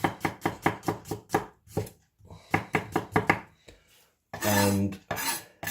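Knife slicing garlic cloves on a cutting board, a run of crisp rhythmic chops in quick bursts with short pauses between, close and fairly quiet, ending in a louder scraping or sweeping burst.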